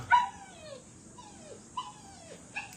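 A pet dog named Chino whimpers before his bath, giving a few thin, drawn-out whines that fall in pitch, fairly quiet and close, with short pauses between them.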